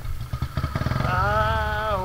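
A motorcycle engine idles and revs, its low throb pulsing steadily before rising into a sustained, wavering whine, close and fairly loud, with a voice talking over it.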